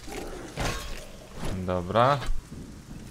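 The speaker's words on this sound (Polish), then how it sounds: "O, deszczyk" Rain in the fantasy game Arcania: A Gothic Tale, a soft steady patter with faint rumbling beneath a man's speech, which sits in front of it.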